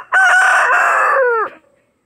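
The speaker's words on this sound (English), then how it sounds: "You can't stop them from crowing." A rooster in a backyard chicken flock crows once, loud and close, in one long strained cock-a-doodle-doo that trails off at the end, with no talking over it.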